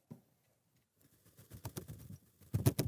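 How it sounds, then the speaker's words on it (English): A bird's wings flap in a quick burst of fluttering beats, close by, getting louder and busier toward the end. "that sounds just like a bird flapping its wings"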